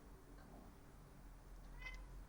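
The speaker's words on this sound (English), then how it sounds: "Meow." A cat meows once or twice, faint and fairly close, over a steady low hum of room noise with no talking.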